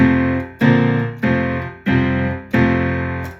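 Four block chords played plainly on a keyboard instrument, each struck firmly and left to ring and fade before the next, at a steady, unhurried pace.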